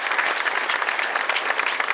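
An audience at the closing ceremony of the Vendanges du 7ème Art film festival in Pauillac gives steady, dense applause. The crowd claps close and full throughout.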